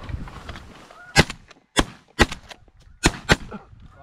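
Several sharp shotgun blasts ring out during a two-man snow goose hunt, coming singly and in quick pairs across a few seconds, loud and close against a quiet outdoor background.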